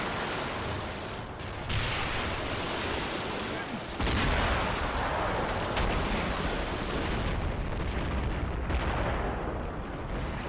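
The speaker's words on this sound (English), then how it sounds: "these tanks getting lit up by our artillery" Artillery shells hitting tanks in the World War II strategy game Graviteam: Fateful Strike, a dense, continuous roar of booming blasts and rattling gunfire with louder impacts layered over the din, and voices likely mixed in.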